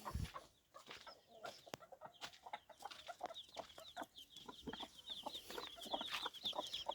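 A rooster and chickens close by, with repeated clucks and short calls over scattered rustling and a thin, high chirping that persists through the second half.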